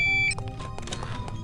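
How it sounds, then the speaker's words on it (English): Electronic beeping from the stealth game No One Lives Forever: a short high tone at the start, then a clatter of faint in-game effects and low ambient noise. "I know, I'm sorry about the beeping."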